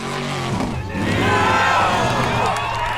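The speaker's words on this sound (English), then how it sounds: "And you can hear that crowd." A crowd cheers and shouts at an Icelandic Formula Offroad race in Egilsstadir, mixed with a roaring, revving truck engine that swells in the middle, loud and close.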